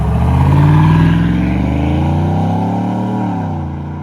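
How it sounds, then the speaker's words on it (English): A Chevrolet Silverado with a 5.3 V8 and a Borla Atak muffler pulls away at full throttle, its loud, deep exhaust roar swelling and rising steadily in pitch before easing off near the end. "Alright, this is going to be a full throttle takeoff."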